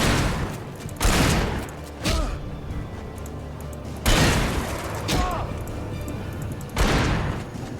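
Flashbang grenades going off in the Alan Wake video game, three sharp loud bangs spaced a few seconds apart, each trailing into a ringing, crackling decay with clattering mechanical sounds between them.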